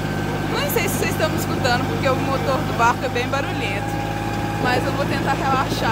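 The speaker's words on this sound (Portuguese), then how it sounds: "o motor do barco é bem barulhento" A loud boat engine drones steadily at close range off Pontal da Atalaia near Cabo Frio, a constant rumbling hum running throughout while someone talks over it.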